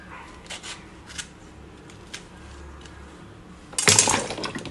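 Two slit green chillies go into a pot of sambar: a few faint light taps, then one louder, close clatter-splash near the end that trails off briefly, with no voices.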